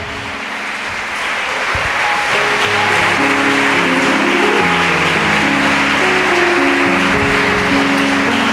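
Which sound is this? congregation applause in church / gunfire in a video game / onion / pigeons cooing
congregation applause in church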